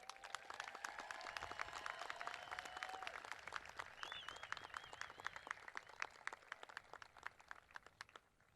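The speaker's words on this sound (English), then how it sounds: "Please give them one more round of applause." Applause from a graduation ceremony crowd, a quiet, steady patter of many hands clapping that slowly thins and fades toward the end.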